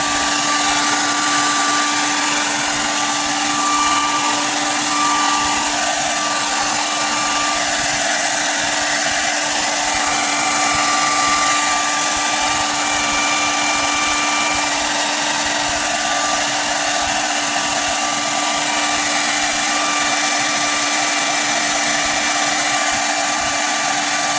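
A heat gun blows steadily on a NECA TMNT Foot Soldier action figure, giving a loud, constant whooshing hiss with a fixed whine running the whole time and no talking.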